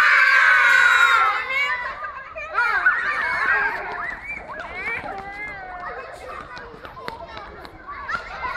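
A group of children playing a bunny game shout and scream together nearby, starting with a loud, high-pitched burst that fades into excited chatter and calls.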